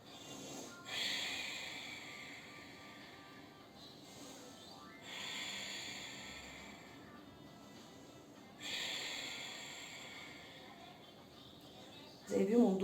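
Audible breaths in and out during a Pilates exercise, three long airy exhalations spaced a few seconds apart, soft and close, with a brief voice at the end.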